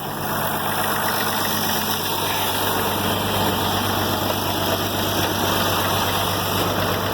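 An International 706 tractor engine runs at a steady, loud idle with a constant rumbling drone and no voices.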